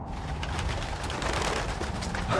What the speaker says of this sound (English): It's a damn bird